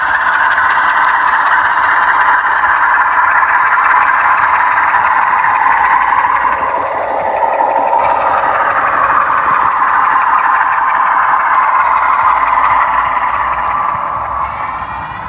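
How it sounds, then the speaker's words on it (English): A railway locomotive shunting from the main line into a siding gives a loud, continuous engine drone and rumble that stays steady throughout and eases slightly at the very end. "The shunting movement is a movement of the locomotive from the main line into the siding."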